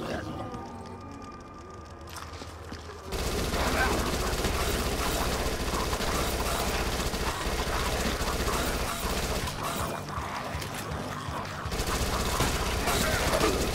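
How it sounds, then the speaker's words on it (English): Submachine gun fire in the zombie shooter Dead Nation: dense, continuous bursts of rapid shots with mechanical clatter, loud and sustained after a quieter start, layered with game effects and music. "SMG."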